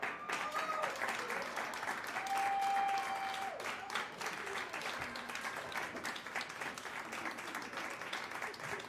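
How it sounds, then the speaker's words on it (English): Sustained applause from an audience at a live jazz performance welcoming a singer to the stage, dense and steady clapping throughout with faint voices and a brief tone mixed in. "Keep clapping."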